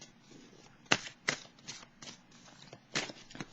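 Tarot cards are shuffled and drawn by hand, a series of soft, crisp card riffles and slaps in irregular bursts, close and quiet.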